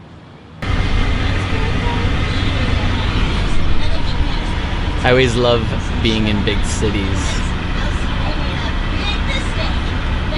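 Chicago rush-hour road traffic heard from inside an RV: a steady, loud rumble of engines and road noise that runs continuously under a voice.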